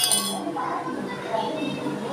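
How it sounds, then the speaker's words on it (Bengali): A spoon cuts through an egg dish cooked in a pan, giving a sharp metallic clink at the start and then softer scraping, heard close. "আমি চামচ দিয়েই কেটে নিচ্ছি, ছুরি দিয়েও কাটা যায়।"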